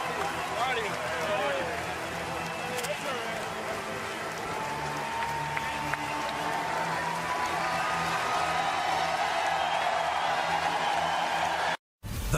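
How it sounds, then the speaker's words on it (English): Stadium crowd applauding and cheering in Omaha as an LSU pitcher walks off the mound during a College World Series baseball game against Coastal Carolina, a steady broad roar of clapping with a commentator's voice over it. "Listen to the applause."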